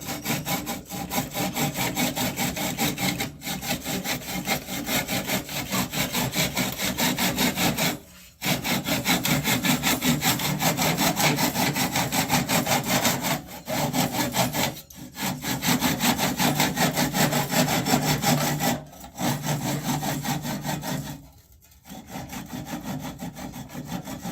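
A pull saw cutting through a segmented cherry vessel still on the lathe, steady rhythmic rasping strokes close and loud, broken by short pauses, with no talk.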